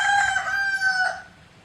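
A rooster crows once, a loud, close cock-a-doodle-doo that rises and then trails off into quiet, with no other voices.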